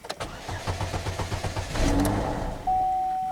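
A 2009 Chevrolet HHR cranks with a fast rhythmic starter chug for almost two seconds, then the engine catches into a steady, louder running drone, close by.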